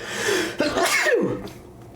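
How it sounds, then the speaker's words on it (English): A single close sneeze, a quick intake of breath followed by a sharp burst, amid faint background sounds. "I'm gonna sneeze."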